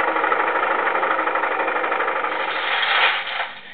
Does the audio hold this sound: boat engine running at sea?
yes